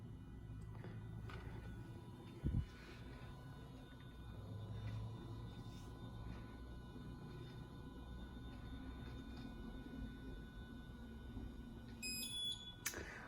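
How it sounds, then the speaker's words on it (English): A kitchen timer goes off for a sous vide steak: a short burst of sharp, high electronic beeps near the end, heard over a low steady hum and faint background rumble. "the timer has gone off"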